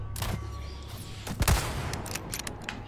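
Gunfire from a weapon in the Resident Evil 4 Remake game, a couple of sharp reports around the middle amid clattering game effects and low ambient hum, moderately loud.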